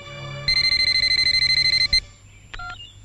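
A telephone rings in a Hindi film scene, a rapid repeating electronic trill lasting about a second and a half, loud and close, followed by a short chirping tone.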